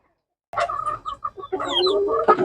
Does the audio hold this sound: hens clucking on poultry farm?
yes